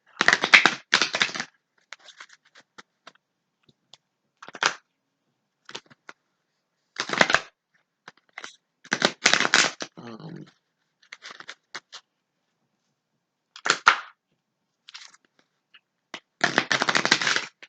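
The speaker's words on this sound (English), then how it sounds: "Okay, stop shuffling." Several bursts of cards being riffled and shuffled close up, each lasting a second or so, separated by short quiet pauses.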